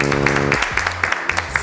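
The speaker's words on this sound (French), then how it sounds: "On applaudit quand même." Studio audience applauding during a French football quiz show, a short burst of close, steady clapping under a held musical tone and other broadcast sound.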